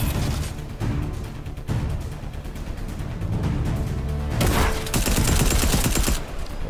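Rapid bursts of automatic gunfire from a Fortnite match, dense overlapping shots in long loud volleys with brief pauses between them.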